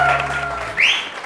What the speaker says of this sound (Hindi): बहुत सारी तालियां मदिया के लिए.